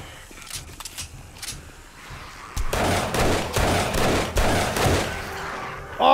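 Rapid gunfire bursts from a run-by shooting in 7 Days to Die, loud close volleys clattering in quick succession after a quieter stretch, with no voices over them.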